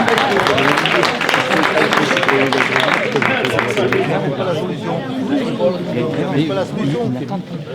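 An audience at a French public information meeting claps and cheers amid lively crowd chatter, the applause strongest early and tapering into a murmur of overlapping voices.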